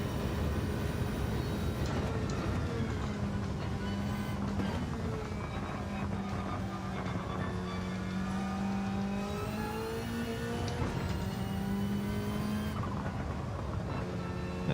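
Race car in a racing video game with steady engine drone that rises and falls through gear changes, carrying faint turbo flutter between shifts, fairly quiet and continuous with no talk.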